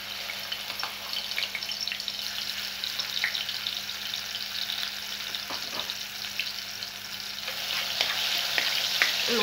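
Minced garlic fries in oil in a pot, giving a steady bright sizzle with scattered crackles and pops that grow slightly louder toward the end; no one speaks.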